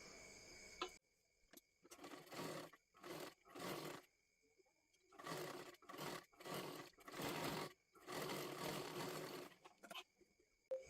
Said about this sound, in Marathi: पाठीमागच्या बाजूला आपल्याला व्यवस्थित शिलाई करून घ्यायची आहे